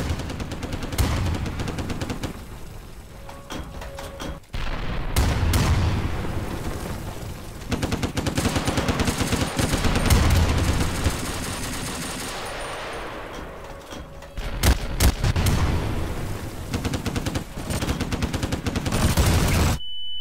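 A WWII Soviet machine gun fires in rapid bursts at close range, loud sustained rattles broken by brief pauses, with a short gap near five seconds and renewed volleys toward the end.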